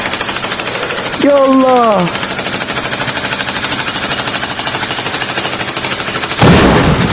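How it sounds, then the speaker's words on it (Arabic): In the Stickman Jailbreak game, a pickaxe hammers through a prison wall in a loud, rapid, machine-like pounding that runs throughout. A voice speaks briefly and a rising tone sweeps over it partway through. "بص بقى احنا هنجيب بقى البيكاكس"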